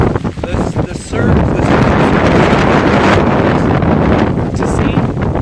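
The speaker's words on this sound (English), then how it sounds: "It's raining. It's windy." Strong hurricane wind and rain from Hurricane Irma's storm over Clearwater Beach roar steadily as a constant, loud rush buffeting the microphone, with a brief gust-like dip near the start.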